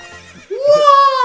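A horse in the video game Zelda: Ocarina of Time gives a single loud, close, high whinny, with a short voice just before it.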